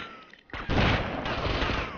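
A sudden loud burst of gunfire in GTA Vice City erupts after a brief quiet moment, sustained crackling and booming that continues to the end.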